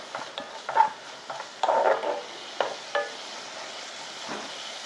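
Beef being stir-fried over high heat for a cucumber side dish: short sizzling bursts and scraping stirs come in uneven spurts, moderately close, with quiet gaps between.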